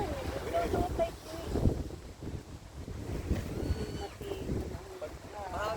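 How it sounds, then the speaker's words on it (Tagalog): Steady gusty wind buffets the microphone in a low rumble at a beach resort, with voices talking faintly underneath. "Mahangin kasi talaga."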